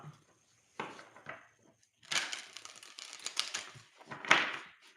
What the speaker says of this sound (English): while she's typing that